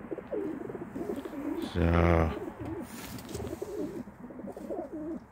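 Pigeons in a loft give a close, throaty burst of cooing midway, with softer bird calls before and after, while someone talks throughout.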